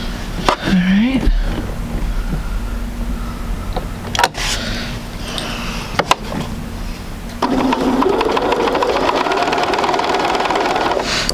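A sewing machine stitches quilt fabric pieces at a quarter-inch seam, starting with short bursts and then running in a steady buzzing whir near the end, preceded by a few handling clicks and no speech.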